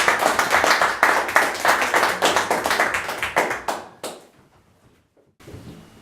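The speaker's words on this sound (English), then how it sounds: "Big round of applause." A small quiz-night crowd gives a quick round of applause, loud close rhythmic clapping in brisk pulses for about four seconds before cutting off to near silence, then a faint murmur returns.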